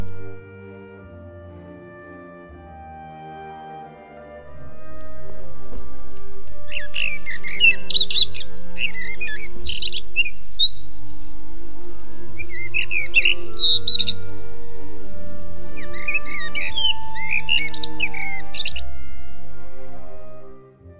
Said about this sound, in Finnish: Musiikin lintukuoro tälle näytelmälle on suonut.